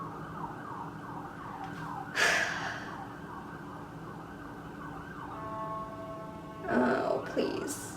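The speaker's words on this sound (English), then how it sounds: "can you hear the siren?" An emergency vehicle siren wails in the distance, rising and falling faintly behind a quiet indoor room, with a few sharp nearby breaths or movements.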